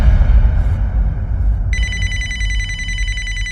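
A telephone rings with a bright electronic trill that starts midway and repeats steadily, heard clearly over a low background rumble.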